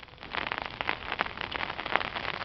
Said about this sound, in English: It does look like snow, but it's more hail than snow.